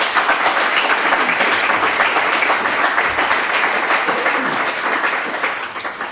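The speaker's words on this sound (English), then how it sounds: "Please big clap for Byron." Church congregation applauding steadily throughout, a dense, sustained clapping that stays loud and only eases slightly at the very end.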